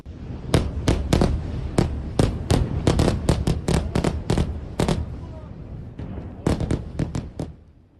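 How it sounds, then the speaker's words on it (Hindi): Explosions near Beirut airport: about twenty sharp, loud bangs come in quick irregular bursts over a constant rumbling background, with a short lull before a final cluster. "एयरपोर्ट के पास भीषण विस्फोट हुआ, जिसकी धमक सुनाई दी इन तस्वीरों में भी"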